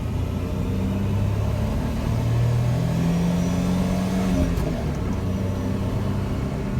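A Suzuki Carry mini truck's small turbocharged engine pulls steadily in third gear, its drone climbing gradually in pitch as it accelerates, heard from inside the vehicle without talk.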